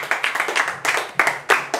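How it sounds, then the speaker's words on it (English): Audience clapping at a women's empowerment event, a close burst of hand claps in uneven pulses with a few louder swells, no voices over it. "Please clap for him."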